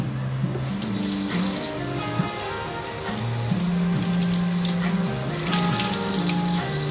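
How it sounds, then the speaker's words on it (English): Raw pork rinsed under a running kitchen tap while making carnitas, a steady stream of splashing water that continues throughout with faint clinks, close and moderately loud. "rinse it off."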